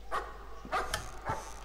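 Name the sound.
dog barking in video game Layers of Fear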